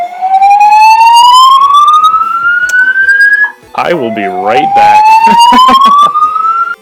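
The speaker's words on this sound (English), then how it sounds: "it was like the fire alarm went off" Fire alarm wailing in a loud, rising siren sweep that repeats, with a brief pause and a short spoken phrase in the middle before the alarm resumes.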